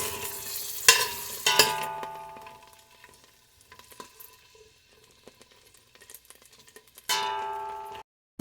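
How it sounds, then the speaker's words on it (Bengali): Cauliflower pieces hit hot oil in a pan with sharp bursts of sizzle, then quieter crackles and stirring taps before another loud sizzle near the end, with no talk. "প্রথমেই ভেজে নেব ফুলকপি"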